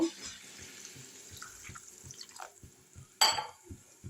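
Water is poured into a cooking pan of spiced snail curry in a rural Bengali kitchen, a soft trickle followed by a sudden splashing gush near the end, faint and close.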